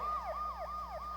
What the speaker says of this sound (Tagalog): Ayan na, may wangwang.